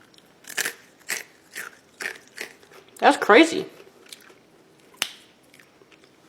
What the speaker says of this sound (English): I'm gonna bite into it for you to hear the texture.